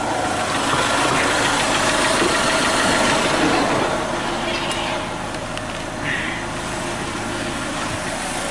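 Car engine idling during a scanner diagnosis, a steady low rumble with a faint rattle that eases a little partway through.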